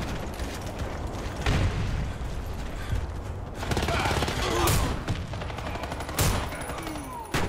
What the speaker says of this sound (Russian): Осторожно, граната!